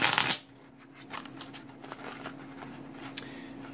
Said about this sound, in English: this is the part where I shuffle the deck